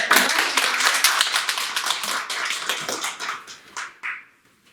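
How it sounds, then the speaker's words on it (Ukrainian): School quest-game teams at a Constitution Day event break into steady, dense applause from a room full of pupils, loud and sustained before tapering off to a few last claps. "Я хочу всім е, командам подякувати оплесками."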